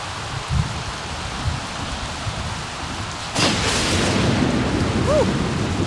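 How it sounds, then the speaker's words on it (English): A steady rain storm hisses in The Sims 3 video game, a constant wash of falling rain that swells louder partway through with a sharp rumble of thunder. "Oh, it's storming and raining."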